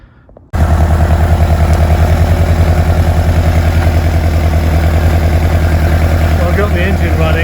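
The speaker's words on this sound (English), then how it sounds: "Got the engine running." A Lotus Elan's engine fires up after a brief quiet moment and settles into a loud, steady, throbbing idle close by, running evenly to the end.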